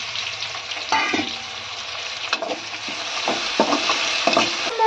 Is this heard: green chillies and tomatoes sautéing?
yes